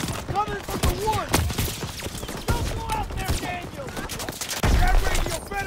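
Battle of the Bulge combat in Call of Duty WW2, with scattered gunshots and sharp bursts cracking through a busy soundscape while a voice talks over it, including a louder close burst near the end.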